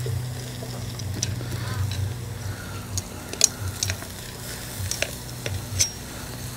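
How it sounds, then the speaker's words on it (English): Small pieces of meat sizzle in a little dish over outdoor grill heat, with faint steady crackling under a low hum and sharp clicks and taps of a utensil scattered throughout. "I can hear that bloody frying away bloody beautiful"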